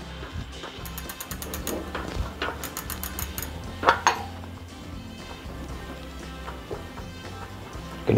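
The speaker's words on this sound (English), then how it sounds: "just so we can hear that bearing clicking just a little bit" A Miami Sun Baja trike wheel bearing, adjusted with slight play, gives a series of light metallic clicks and ratcheting ticks close by as the wheel is worked, in irregular bursts over a quiet background.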